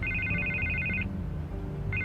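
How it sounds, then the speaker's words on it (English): A telephone rings in the Batman Telltale game, a bright electronic trill sounding for about a second, pausing, then starting again, layered over a low, busy background of music and ambience. "I can't get the phone to stop ringing"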